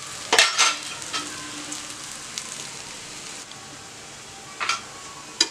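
Adai, a lentil dosa, crisping in a hot pan, giving a steady soft sizzle with a few sharp scraping clicks near the start and again near the end, probably from a turning spatula.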